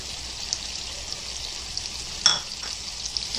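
A Konkani brinjal and prawn curry simmers with a soft, steady hiss while yogurt is stirred in, and a single bright clink of a spoon on the pot rings out partway through.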